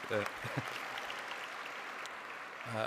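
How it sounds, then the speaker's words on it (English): An audience at a life sciences awards event applauds for an honoree, a soft, even wash of clapping. Brief bits of voice break in near the start and again at the end. "Please, a round of applause for James."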